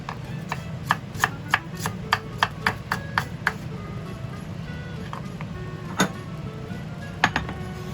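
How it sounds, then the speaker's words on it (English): A knife chops ginger into slices and shreds on a cutting board. A quick run of crisp, regular knocks is followed by a pause and then a few scattered, louder taps. "First, slide the ginger into slices,"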